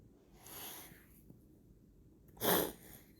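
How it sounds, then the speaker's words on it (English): A person blows their nose in two short bursts, a softer one first and then a louder, sharper honk, close up in a quiet room. "I had to blow my nose"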